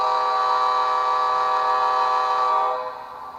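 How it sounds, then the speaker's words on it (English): A K5LA five-chime horn from a sound decoder in an F40PH model locomotive blows one steady, loud, sustained chord for nearly three seconds, then cuts off and fades. "Here's the horn."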